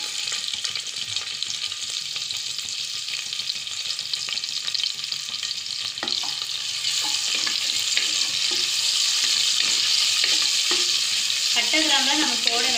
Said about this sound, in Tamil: இப்போ நம்ம வெட்டி வச்சுருக்க வெங்காயம் போட்டுடலாம்.